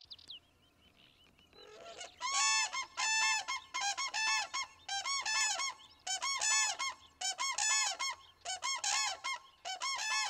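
Geese honk in northern wetlands in spring, a steady run of loud, repeated honking calls from a close flock, preceded by a brief squeak and low background noise.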